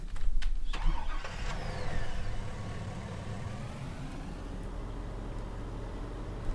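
In Farming Simulator 19, a vehicle engine cranks and starts with a loud burst, then settles into a steady, low, rumbling idle.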